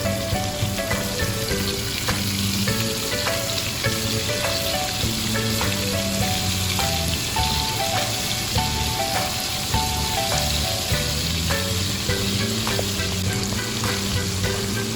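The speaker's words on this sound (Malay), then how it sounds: "Goreng sehingga ia betul-betul masak." Floured tenggiri mackerel pieces fry in hot oil over medium heat, a dense continuous sizzle with steady crackling, close up, with music playing underneath.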